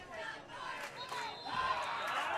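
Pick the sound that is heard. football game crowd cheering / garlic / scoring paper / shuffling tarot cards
football game crowd cheering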